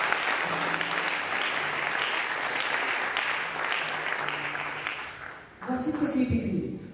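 Church congregation applauding and cheering in steady, dense clapping that fills the space, dipping briefly near the end before a fresh burst with voices rising under it.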